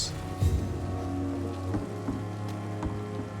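Steady rain pours down in the Vampyr video game, a dense continuous hiss of drops on surfaces with a few louder splats, close and even throughout with no voices.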